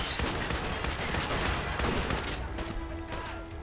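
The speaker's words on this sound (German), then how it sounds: "So, die haben wir beide über den Haufen geschossen." Dense gunfire from the Fallout 4 Automatron DLC, a near, continuous burst of overlapping shots rolling on for the whole stretch, loud and with no voice over it.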